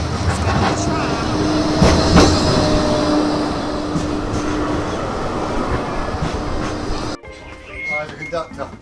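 A Blackpool tram rolls along with a loud rumbling clatter of wheels on rails and occasional squeals. Voices speak over it before the noise drops away near the end.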